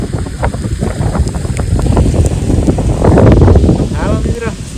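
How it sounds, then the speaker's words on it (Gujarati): Outdoors in Botad village during rain, wind gusts rumble hard against the microphone in a loud, constant roar while a voice talks over it. "પવન થાય છે ને વરસાદ આવે છે"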